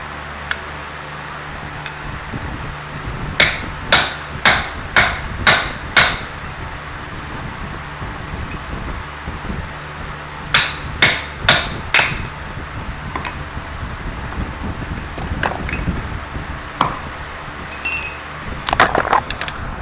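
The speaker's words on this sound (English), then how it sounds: "You just take a chisel, and all you have to do is just very lightly tap these." A hammer strikes a chisel on a cast iron Cub Cadet axle in quick bursts of five or six light, ringing taps, with pauses between bursts over a steady background hum.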